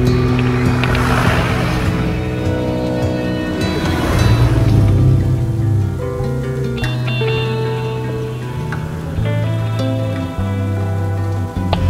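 Rain pours steadily through an overgrown forest, a loud, dense, continuous hiss filling the whole stretch with no voices over it.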